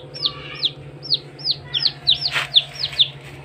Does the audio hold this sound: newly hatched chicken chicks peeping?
yes